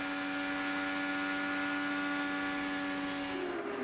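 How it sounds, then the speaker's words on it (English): Onboard sound of an IndyCar during the 2013 Indianapolis 500, a steady high engine drone at constant pitch that drops abruptly near the end as the driver lifts off the throttle entering a turn. "You can hear him throttle back just as we start to get into the turn"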